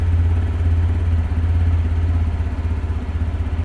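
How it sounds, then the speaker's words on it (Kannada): At close range, the exhaust of a TVS Apache RTR 160 4V motorcycle idles in a steady, even thrum with a low, pulsing beat and nothing else over it. "ಐಡ್ಲಿಂಗಲ್ಲಿ ಈ ಥರ ಸೌಂಡ್ ಬರ್ತದೆ"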